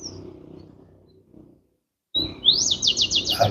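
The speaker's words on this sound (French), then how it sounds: "Alors, on entend les oiseaux," Birds chirp outdoors, with a quick series of bright, rising tweets in the last second after a brief silence, preceded by low background rumble.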